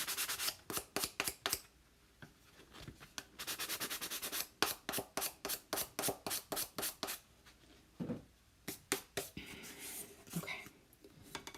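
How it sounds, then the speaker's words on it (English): Sandpaper rubs across the top of a Chalk Couture craft piece in quick bursts of short, scratchy strokes, close and fairly quiet, with brief pauses between runs. "let me get a little bit more at the top sanded."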